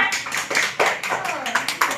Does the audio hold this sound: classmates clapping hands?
yes